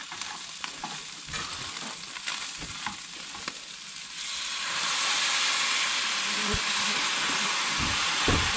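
Minced meat stir-frying in a pan in a Nùng home kitchen in Cao Bằng, a steady loud sizzle and hiss that swells and grows denser partway through, with occasional scraping stirs and clinks.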